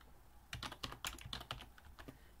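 Fingers tap a computer keyboard while filling in a Microsoft Access pop-up form, a quick burst of soft, close clicks lasting about two seconds.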